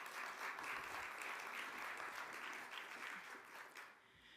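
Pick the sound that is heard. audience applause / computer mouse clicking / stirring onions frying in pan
audience applause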